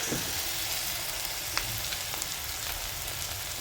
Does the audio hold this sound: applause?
no